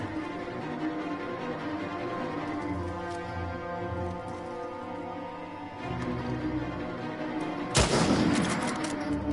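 Gunfire and explosive bursts from the video game Uncharted 4 crackle through a dense, continuous battle soundscape, with a sharp loud blast near the end and no talking.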